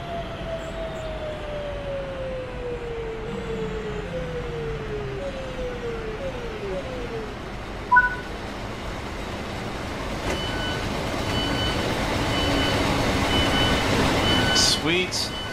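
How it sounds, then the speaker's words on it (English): A freight train rolls past a station platform on the Glossop Line in Train Sim World 3, a rising rumble and clatter of wagons building louder toward the end, with a falling horn-like tone early on. "It's getting a little loud out here as a freight train passing by the platform."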